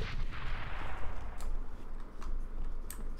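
A grenade detonates in the video game CS:GO, a muffled blast followed by a few sharp gunshots cracking out later, all at a moderate level with nobody speaking.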